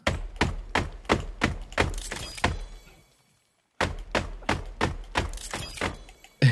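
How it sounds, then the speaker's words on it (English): Rhythmic banging on the walls of a built structure in The Forest video game, two bursts of steady heavy thuds, about three per second, loud and close, separated by a second of silence. "Do you hear me going around just banging on these walls of this thing?"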